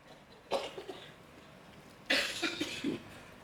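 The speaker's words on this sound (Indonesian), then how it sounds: "Kalau sudah batuk-batuk itu biasanya nggak apa-apa." Two bursts of coughing, each a short cluster of harsh coughs, with a quiet pause between them; close and fairly loud.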